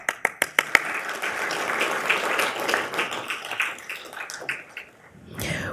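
Applause from the audience at a Fort Worth ISD school board meeting honoring students, beginning with a few sharp separate claps and swelling into sustained, fairly loud clapping across the room before fading near the end.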